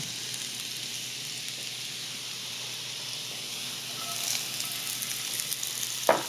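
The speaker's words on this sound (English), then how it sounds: "we'll just make a quick stir fry with these veggies" Mixed colourful vegetables fry in a stir fry with a soft, steady sizzle that builds slightly louder near the end, ending on a brief sharp clink.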